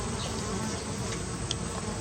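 Bees buzz steadily around a beehive kept in the city, a dense, continuous insect drone close by with no talking over it.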